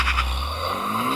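A Honda Civic Type R spins its wheels at launch: a steady tire squeal over loud engine roar, with a rising whine as revs climb through the short burst.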